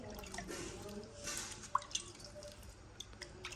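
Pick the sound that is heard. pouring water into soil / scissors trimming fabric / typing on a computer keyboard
pouring water into soil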